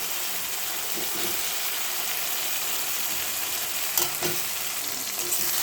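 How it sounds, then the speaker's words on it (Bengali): Spice paste with papaya frying in a pan, a bright constant sizzle of oil with a couple of brief stirring clatters near the end, no talking. "মশলাটা কষা হচ্ছে"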